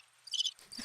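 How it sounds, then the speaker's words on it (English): Crickets chirping as a sound effect, a quick pair of faint, high trilling chirps followed by a softer echo, brief and isolated. "Just crickets."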